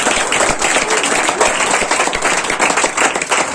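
A church congregation clapping loudly during Masih worship songs, a steady rhythmic wash of many hands beating together with no break.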